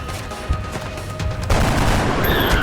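Gunfire from the video game XCOM: Enemy Unknown crackles under a busy game soundscape, with a sharp report early on and a louder, denser volley of shots filling the second half.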